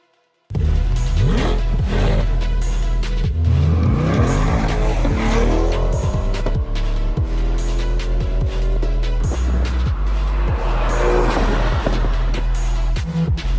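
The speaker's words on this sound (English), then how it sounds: "we're driving a C8 Corvette." A Chevrolet C8 Corvette Z51 drives and accelerates, its engine note rising and falling through gears, with sharp clicks and thumps from the cabin over a steady loud drone and no talk.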